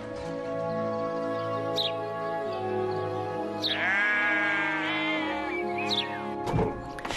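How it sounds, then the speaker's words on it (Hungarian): Sheep bleat loudly and close by in the Irish countryside, giving several drawn-out, wavering cries that overlap one another, with no talking. "A birkákat meg kell nyírni."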